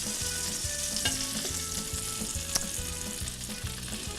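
Sausages frying in a pan, browned golden on both sides, giving a loud, close, continuous sizzle and crackle with a few sharper pops and no voices.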